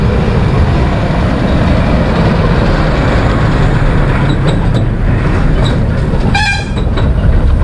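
A train runs past a Konkan village near Terwan, Rajapur, with a loud, steady rumble and clatter of wheels throughout and a brief horn toot near the end, close by.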